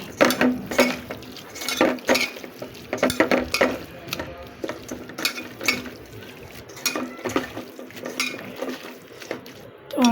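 Small fish curry being mixed and stirred in a pan, with irregular scraping and clinking of the spoon against the metal over a low sizzle.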